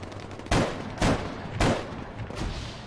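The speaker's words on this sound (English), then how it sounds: "Again, taking a few shots at the heli." Gunfire in the Arma 3 video game aimed at a helicopter: four loud, sharp shots spaced roughly half a second apart, with no talk over them.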